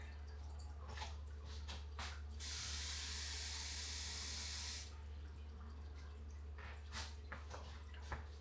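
A tap runs water into a measuring cup for bread dough: a loud, steady rush lasting about two seconds, set between quieter clinks, drips and handling noises over a low hum.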